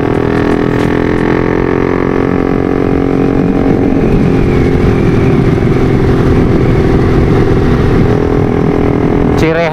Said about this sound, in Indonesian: sekalian kita test drive motor ini